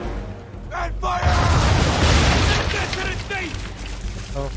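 A ship's cannon fires round shot in Assassin's Creed 3, a loud booming blast that swells into a rumbling roar of gunfire, with voices speaking over it at the start and end.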